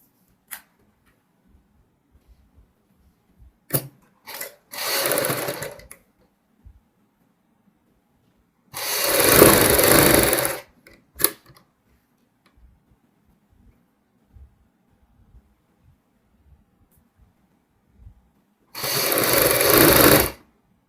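Sewing machine stitching the side seam of a baby frock in three separate runs: two short bursts early, then a longer steady whir midway and another at the end, loud and close with silence between.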